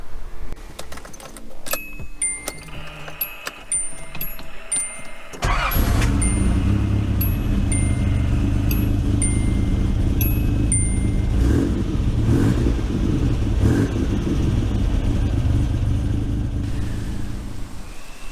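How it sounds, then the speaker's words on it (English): A Nissan Z31 engine cranks and catches after keys jingle, then settles into a loud, steady idle close by, running on alone after a crank angle sensor replacement. "I'm just going to start the car up just to make sure everything's running the same"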